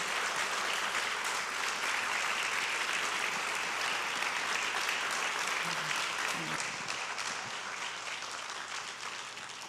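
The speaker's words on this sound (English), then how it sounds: "Would you express your gratitude once more by clapping?" An audience claps after a distinguished scholar lecture, giving steady, sustained applause that carries on evenly for nearly ten seconds and sounds somewhat distant and subdued.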